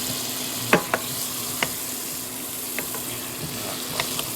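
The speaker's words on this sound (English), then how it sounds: "Throw some butter in here. It'll start melting." Butter melts in a hot pan with a steady, fairly soft sizzle, broken by a few sharp clicks and taps from the utensils.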